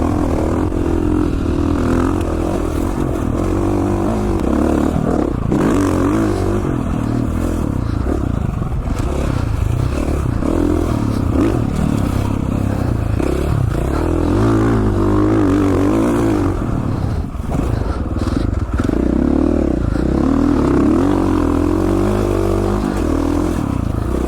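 Dirt bike engine droning loud and steady while riding high-speed mountain trails near Danskin Peak Lookout in Idaho, with constant revving, rattles and scraping clatter from the rough terrain throughout.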